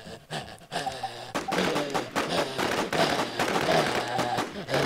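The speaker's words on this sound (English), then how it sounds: "I'm being shot everywhere" A dense, rapid barrage of overlapping gunshots keeps cracking for several seconds, aimed at the player amid a swarm of zombies in the DevilZMMO online video game.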